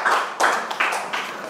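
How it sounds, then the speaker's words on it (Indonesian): Classroom applause for a student: several short bursts of hand clapping from a group, each swelling and fading, fairly close and lively. "Tepuk tangannya buat Fahri Ahmad juga."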